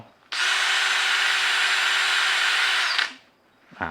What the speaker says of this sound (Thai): สว่านกระแทกไร้สายไร้แปลงถ่าน20โวลต์ตัวนี้